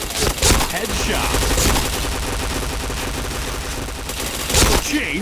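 Rapid gunfire from the shooter game Point Blank crackles in dense bursts, with sharp louder shots punching through near the start and end over a steady stream of rattling fire.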